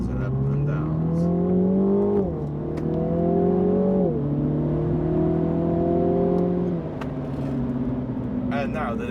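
A MINI JCW GP engine and exhaust drone under way, pitch climbing through the gears with shift dips, loud and steady inside the cabin while someone talks.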